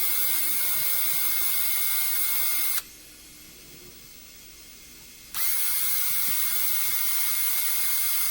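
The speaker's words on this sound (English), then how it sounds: "I'm going to use a wire wheel to do a little refining." A spinning wire wheel works over the screws of a Stanley Bailey No. 4 hand plane's handle in a steady, loud burst of about two and a half seconds, set against a constant shop motor hum.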